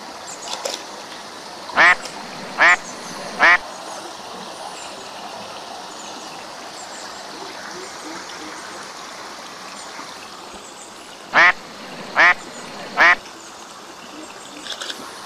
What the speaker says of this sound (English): Look at that, ducks just swimming across.